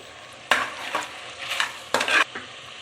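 Mutton frying with green chillies in a pan, stirred in several short scraping bursts over a soft steady sizzle, close and fairly quiet, no talking.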